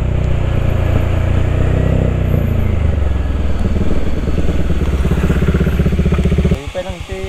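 A motorcycle climbs a rough cement path, its engine loud and close, chugging and revving under load, then easing off with a choppy, uneven putter near the end.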